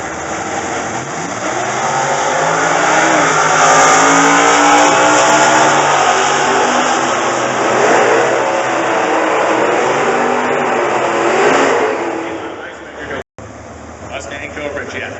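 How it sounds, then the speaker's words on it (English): Drag race cars with 297 cubic inch, very high winding small block engines roar down the strip, a loud sustained rising engine scream that fades near the end, with an announcer talking over it. "297 cubic inch, very high winding small block engine"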